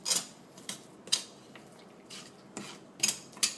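A knife scrapes raw meat off a chicken bone in a series of short, dry, rasping strokes. The strokes come at an uneven pace and are heard up close.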